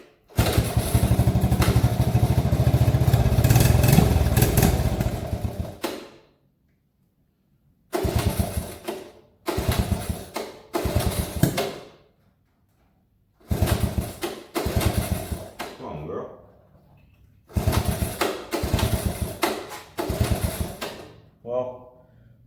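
A Honda ATC 70 three-wheeler's small single-cylinder engine coughs into life and runs in several rough, close bursts, each dying out into short silences before firing again.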